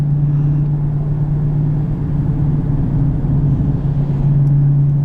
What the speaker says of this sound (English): Those burbles are so loud.